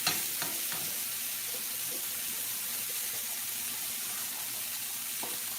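Food browning in a frying pan sizzles steadily under a hiss, with a few faint clinks and stirring taps scattered through, close and continuous, no talking.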